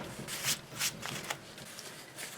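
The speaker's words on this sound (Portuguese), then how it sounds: "Agora eu vou cortar a pontinha aqui." Scissors snipping through the fabric tip of an apron, giving several crisp, close, rustling cuts over a steady hiss, with no talking.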